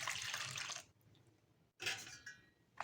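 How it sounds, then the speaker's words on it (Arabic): Water pours into a soap-based oxy gel mixture made from a plain bar of laundry soap, in two short splashing bursts separated by a quiet pause, close and fairly loud. "كده بصوا انا هزودها كده شويه ميه"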